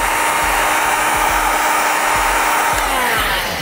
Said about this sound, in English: go ahead and hit the heat gun now to get these corners to lay down, make them very malleable